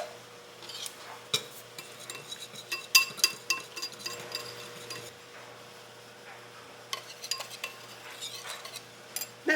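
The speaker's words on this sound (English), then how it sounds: "I'm just going to add in a little bit and we'll get that mixed up." Milk being stirred into a batter in a bowl, heard as bursts of clinking, scraping strokes of a utensil against the bowl with a quiet pause in the middle before the stirring picks up again.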